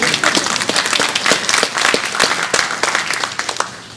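An audience at a State of the City event claps steadily for a few seconds, a dense and fairly loud patter of many hands with no talking over it.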